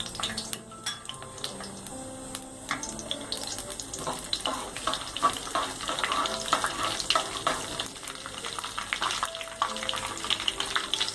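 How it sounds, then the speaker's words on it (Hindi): Cumin seeds roast in hot oil in a kadhai while cooking chicken liver masala, giving a steady close crackling sizzle with light scraping and clinks throughout, no voices. "जीरा हमारा भुनने पर आ चुका है।"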